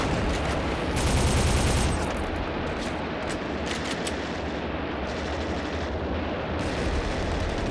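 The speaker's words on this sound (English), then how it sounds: "That's a huge tank gun, by the way." Heavy tank gun firing in the shooter game Soldier of Fortune, a dense, continuous barrage of booming blasts and rattling gunfire filling the whole stretch, loud and close with a surge near the start.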